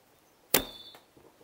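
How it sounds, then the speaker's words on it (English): A kabura whistling arrow loosed from a horn-bamboo bow: a sharp snap of release, then a brief thin high whistle that fades within about half a second as the arrow flies off, followed by quiet. "you can hear the whistling arrow, the kabura"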